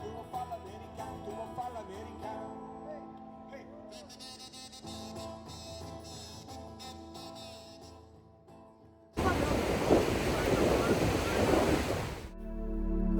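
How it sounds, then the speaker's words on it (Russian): Giant ocean waves and strong wind at Las Canteras beach in Las Palmas, Gran Canaria, bursting in as a loud, close, roaring rush for about three seconds after a quieter stretch of tonal background sound. "сейчас я вам покажу, насколько здесь гигантские волны и ветер"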